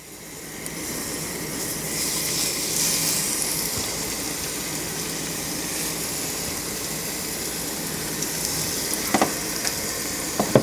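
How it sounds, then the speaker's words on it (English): Steady, continuous sizzling of pompano frying in a hot pan, a broad crackling hiss that holds throughout, with a few sharper pops near the end. "Make sure it's hot enough so when you put the fish in, it starts to sizzle."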